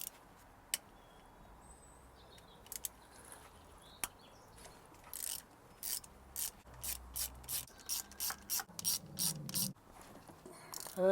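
A ratchet clicks on gearbox bolts of a Ford ST170, a few isolated clicks first and then a steady run of quick, evenly spaced ratcheting bursts close up in a quiet workshop.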